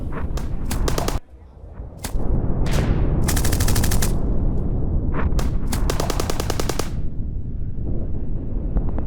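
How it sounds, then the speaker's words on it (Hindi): Militants' gunfire in an attack on an army post: loud, sustained bursts of automatic fire with rapid cracking shots and a brief lull early on, close and continuous. "टीडीपी लड़ाकों ने अचानक शुरू कर दी फायरिंग।"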